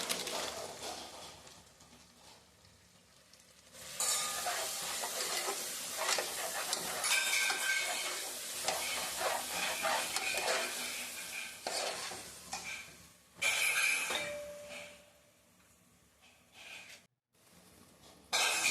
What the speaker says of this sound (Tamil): பிரியாணி மசாலா நம்ம அதில் கொட்டி அதையும் நம்ம ஆட் பண்ணி கிளறி விட்டுக்கலாம்.